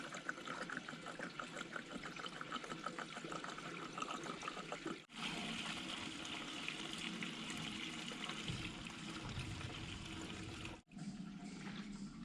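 Two gallons of engine oil pour into a Cat D3B bulldozer in a continuous gurgling, splashing stream. It is close and steady, with two brief breaks.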